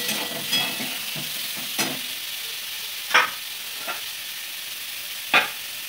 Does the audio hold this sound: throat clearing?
no